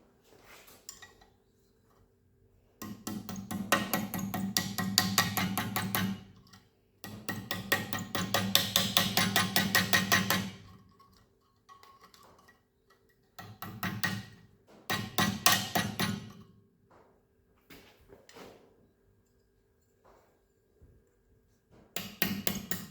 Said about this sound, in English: I'm going to hit this end with the hammer